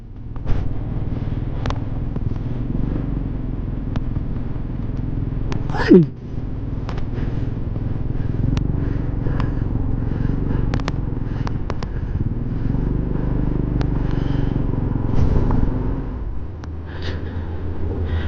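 A loaded truck and a motorcycle crawl along a flood-damaged road after a typhoon, a steady low engine rumble running throughout with a sharp knock near the middle and a brief dip in the drone just before the end.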